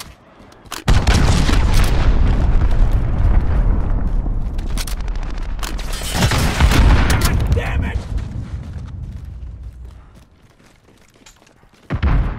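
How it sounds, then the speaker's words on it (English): Massive booming blasts from cruise missile strikes in Call of Duty: Modern Warfare, a loud continuous rumble of explosions that swells, fades to a low roar, then a fresh boom hits near the end. "Allied cruise missile away."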